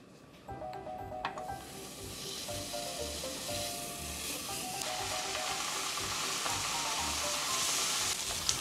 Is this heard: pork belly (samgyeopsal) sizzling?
yes